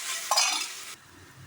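Onions and tomatoes frying in oil in a pan for a chicken curry, a brief broadband sizzle with a clink near the start that cuts off abruptly, leaving quiet room tone.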